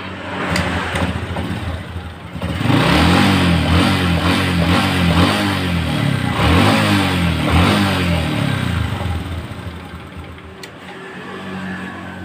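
Honda Supra 125 motorcycle engine running steadily after an ignition repair, close and loud with a rough idle that rises briefly in a couple of revs before settling again.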